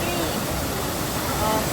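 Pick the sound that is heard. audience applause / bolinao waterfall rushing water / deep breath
bolinao waterfall rushing water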